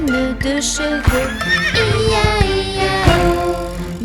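Horses whinny repeatedly in a children's farm song, giving several loud, wavering neighs close up. Hoof clip-clops and short knocks are scattered between them.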